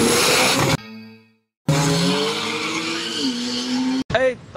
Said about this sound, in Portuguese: É o pega que todo mundo gosta de ver aí.